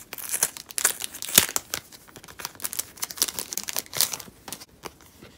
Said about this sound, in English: I can take them out of the plastic